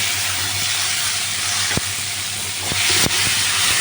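Black cumin and tomatoes fry for a bhetki fish curry, giving a steady, loud hiss with a few sharp clicks and small pops over the continuous sizzle.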